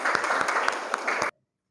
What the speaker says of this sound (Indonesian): Beri tepuk tangan untuk Zahra.